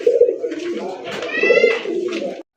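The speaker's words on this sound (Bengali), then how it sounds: "অ্যান্ডালুসিয়ান কালারের মধ্যে একজোড়া বুদাপেস্ট কবুতর।" Pair of Budapest pigeons in Andalusian colouring cooing at a loft, a steady close run of throaty coos with a brief higher chirping trill partway through.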